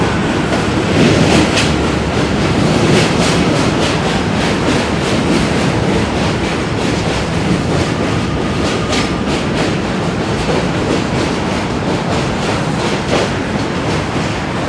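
A New York City J subway train rumbles past close by with a loud, continuous roar and rhythmic clatter of wheels over rail joints, no voices.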